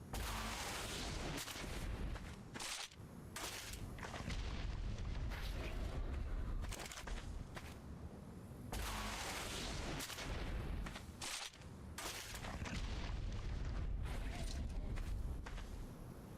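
Rockets blast against a base in ARK: Survival Evolved, a string of heavy booming explosions over sixteen seconds, some close and loud, others duller, with irregular gaps between hits.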